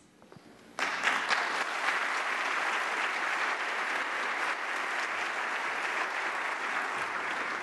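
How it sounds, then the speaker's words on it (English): Audience applause welcoming speakers at a corporate talk event, starting abruptly after a brief quiet moment and continuing as steady, dense clapping from a full room with no talk over it. "I don't think I've ever had applause before."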